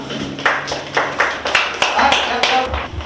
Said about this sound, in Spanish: Un aplauso para Jennifer.